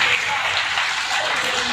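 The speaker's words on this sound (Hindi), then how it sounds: "अब आप सुनेंगे तालियों की बारिश गोपाल भाई के लिए समर्पित।" A dense wash of applause, many hands clapping together at a steady level throughout the short stretch.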